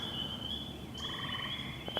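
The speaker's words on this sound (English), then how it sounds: "I think maybe you can hear those frogs in the background." Frogs croaking at night outdoors: a steady high-pitched chorus hums in the background, and a short run of pulsed calls briefly rises above it.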